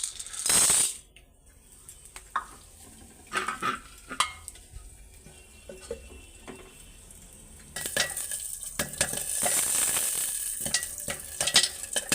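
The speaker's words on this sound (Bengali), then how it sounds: "ওরে ভাইজা দিলাম পপকর্ন" Popcorn frying in a pan, heard as bursts of sizzle and scattered sharp pops and clinks between quieter gaps, with a louder, busier stretch of sizzling in the later half.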